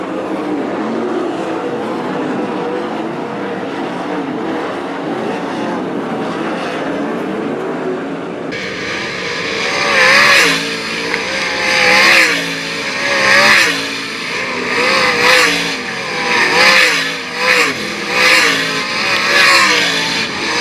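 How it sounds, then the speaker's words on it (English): 305 sprint cars at Attica Raceway Park, first a low engine drone, then a loud pack roaring off turn four with repeated surging revs as the cars sweep past, strong and close. "Ready to rock and roar off turn 4. First of 4 heats for the Fremont Fence and Guardrail 305 sprint cars."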